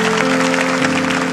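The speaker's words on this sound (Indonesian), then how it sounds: "Kita berikan tepuk tangan untuk Roh Kudus." A church congregation applauds during an Indonesian sermon, giving a dense, continuous wash of many hands clapping together. It stays loud and steady throughout over a sustained low hum.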